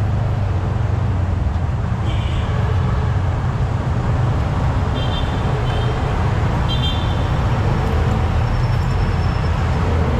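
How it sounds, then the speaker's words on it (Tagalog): A tricycle passes on a road near a wild campsite in Amadeo, Cavite, its engine a loud continuous rumble over roadway noise, with a couple of short horn toots. "Ayan, tricycle."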